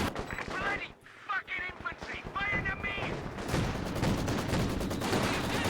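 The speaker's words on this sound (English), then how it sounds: "Having to face now the MG42 plus the Maxim" MG42 and Maxim machine guns fire in a World War II strategy video game, rapid sustained bursts crackling continuously and loudly, with a commentator talking over the opening seconds.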